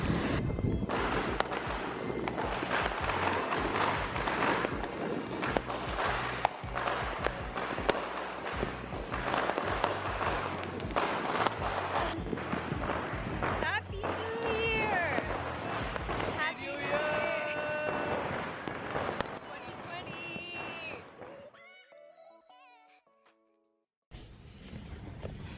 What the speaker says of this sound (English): Everyone's lighting fireworks.